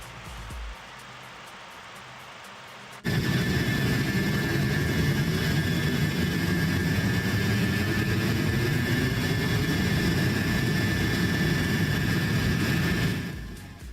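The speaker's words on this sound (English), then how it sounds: "These engines are loud." MD-88 jet engines in Microsoft Flight Simulator 2024 spool up abruptly after a quiet start, settling into a loud, steady roar with a high whine that holds for about ten seconds, then cuts off.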